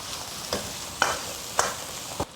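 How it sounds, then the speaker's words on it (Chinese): Chicken giblets stir-fried in chicken fat with ginger, scallion, garlic, pickled ginger, pickled chilies and Sichuan doubanjiang bean paste, a steady soft sizzle broken by four sharp scrapes of a spatula against the wok. "炒香出色，下入鸡杂。"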